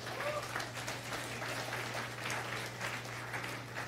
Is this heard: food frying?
no